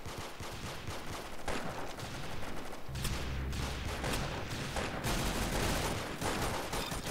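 Gunfire from the Roblox shooter Arsenal rattles in dense, rapid bursts, a continuous fusillade of overlapping shots filling the whole stretch.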